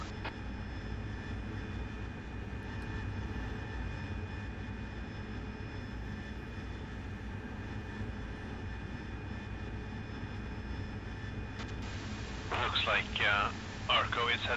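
An AV-8B Harrier's jet engine roars in a steady, dense drone during a flight-simulator takeoff, staying loud throughout while a brief burst of radio-style speech cuts in near the end.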